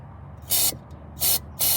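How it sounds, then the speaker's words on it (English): Three short, loud bursts of carburetor cleaner sprayed into the intake of a 2006 Toyota Camry that cranks but won't start, each hiss lasting a fraction of a second over a low background rumble. "I'm gonna use carburetor and spray in here"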